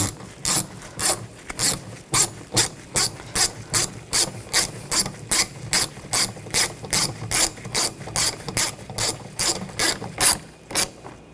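A ratchet clicks steadily through quick, evenly spaced strokes, tightening the screws on a side mirror of a 2014–2020 Nissan Rogue; about twenty crisp clicks sound close and alone, with no talking.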